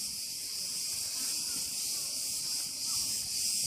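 Crickets chirp in the gardens of a Cretan hotel, a dense, steady high-pitched trill that fills the whole stretch at a constant level with no talking.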